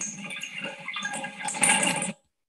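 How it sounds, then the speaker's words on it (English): Water drains out of a bathtub in a steady gurgling, splashing rush that grows a little louder near the end, then stops abruptly into silence. "Here's water going down the bathtub."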